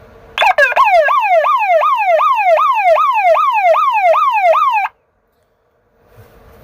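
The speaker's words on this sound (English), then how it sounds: "I've heard that kind of alarm before." An electric siren converted to drive a horn speaker and powered from a small battery, warbling loudly and rapidly in a steady oscillating wail for about four seconds before cutting off abruptly into silence.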